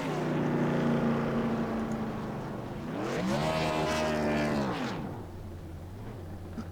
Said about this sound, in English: There it is, a victory burnout from your race winner.